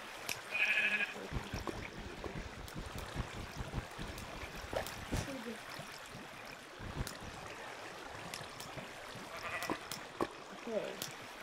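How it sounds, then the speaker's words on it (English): Sheep in Minecraft bleat twice, once near the start and again near the end, over a faint trickling background with clicks and voices talking quietly throughout. "What a strange sheep."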